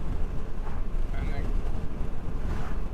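Gusty wind buffets through open car windows while driving, a loud, rumbling roar with fluctuating bursts of low-frequency turbulence and faint voice underneath.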